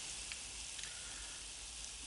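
Frozen eggs mixed with pasta sizzle in a red-hot frying pan, a quiet, steady crackle with faint pops throughout.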